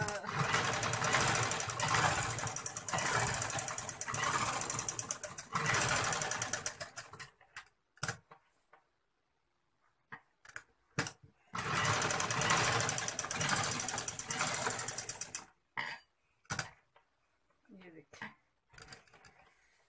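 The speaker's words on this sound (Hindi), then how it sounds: "अब इसको मैं थोड़े से मोटे कपड़े पर चला कर आपको दिखाती हूँ" Sewing machine stitching fabric in long, steady rapid-fire runs of mechanical needle chatter, pausing for short clicks and handling noises between runs, close and clear, with someone speaking in between.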